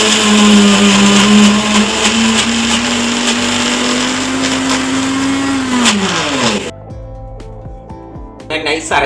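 Mixer grinder blending coconut, roasted gram and green chillies into a fine paste, a loud whining motor hum that runs steadily, then drops in pitch and winds down, followed by quieter clatter.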